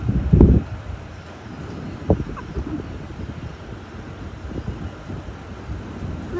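Wind gusts buffet the microphone in a low, uneven rumble, with a couple of sharp knocks early on.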